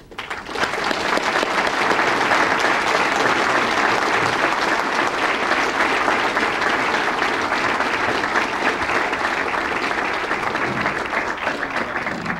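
Sustained, loud applause from banquet guests at a space conference awards dinner, a dense crowd of hands clapping evenly for over twelve seconds before fading at the end.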